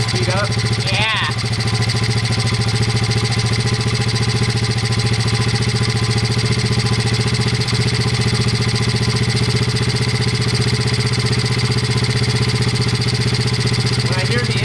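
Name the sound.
modded Honda pitbike engine idling while idle is adjusted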